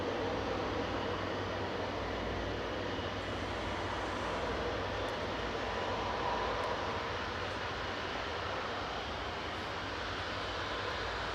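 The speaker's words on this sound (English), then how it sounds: "Flight 753 coming in from Beijing there, A330-300 B1097" An Airbus A330-300 airliner, flight 753 from Beijing, arriving at Manchester Airport, producing a steady, broad engine roar that holds evenly throughout with no talk.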